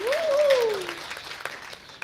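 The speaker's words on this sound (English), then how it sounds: "Let's give Eddie and Lynn a big round of applause again for that wonderful version." Audience clapping after a performance at a Christmas talent showcase in an art center, a steady moderate patter of applause that carries on while a voice sounds over it at the start.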